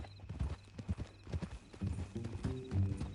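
Horse hooves clip-clop in Red Dead Redemption 2, a steady rhythm of close, moderately loud hoofbeats with an occasional snort or whinny and some faint background game sound.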